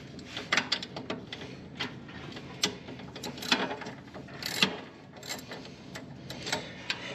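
Small metal nuts being loosened on a lawn mower deck plate, giving a run of irregular ratcheting clicks and light mechanical ticks, close and moderately quiet, with no talking.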